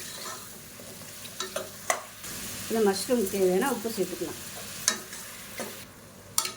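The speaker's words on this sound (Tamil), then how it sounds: "இப்போ இந்த மஷ்ரூம் நல்லா வதக்கி விட்டுக்கலாம்." Mushrooms sizzle and sputter as they are stirred and sautéed in a hot pan for a biryani, with soft crackling throughout and a speaking voice over the cooking.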